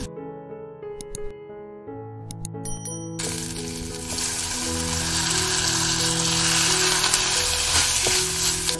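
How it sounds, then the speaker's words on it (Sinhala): Grated coconut tinged with turmeric hits a pot of hot oil, and after a few seconds of ringing tones a loud, close sizzle bursts up and keeps swelling steadily. "අපි දැන් තෙල් හට්ටියට අමරගත්ත පොල් ටික දැම්මා."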